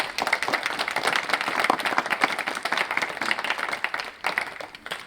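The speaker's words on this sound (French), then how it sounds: "Je vois des parents vouloir applaudir, il fallait le faire parce que c'est une grande décision." Parents at a school event applaud together, a steady, fairly loud wash of clapping that holds for several seconds with no voices over it.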